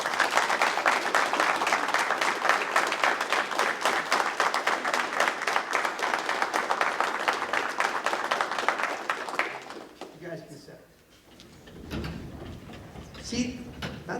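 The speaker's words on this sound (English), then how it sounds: "you give them, a well-deserved round of applause" Graduation class night crowd applauding the seniors: dense, sustained clapping for about nine seconds that then fades out, followed by quieter room sounds and a voice.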